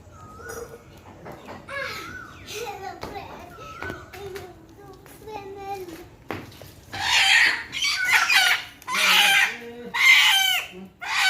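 Local chickens cluck and crow close by in a rural yard, with bursts of loud clucking growing stronger toward the end, while a person talks and children's voices are heard in between.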